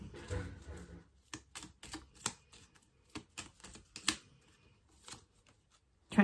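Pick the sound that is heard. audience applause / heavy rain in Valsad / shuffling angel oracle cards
shuffling angel oracle cards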